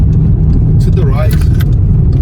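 A worn rear wheel bearing on a moving Skoda Superb produces a loud, steady low droning rumble under constant road noise inside the car, with a brief voice-like sound partway through.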